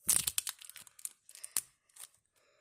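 A Kinder Surprise wrapper is torn and its plastic capsule opened up close, a quick run of sharp rips and crinkles that thins into a few scattered crackles.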